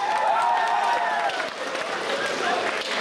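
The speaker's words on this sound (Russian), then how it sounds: "Аплодисменты, пожалуйста, товарищи." A party crowd at a revival party applauds and cheers for the young poet Paulito as he is called to the stage, a busy wash of clapping and crowd noise with voices mixed in throughout.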